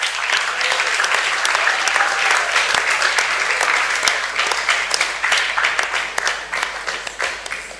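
A seated audience at an inter-school debate applauds the student debaters at length, thick continuous clapping with scattered louder claps, tapering slightly toward the end.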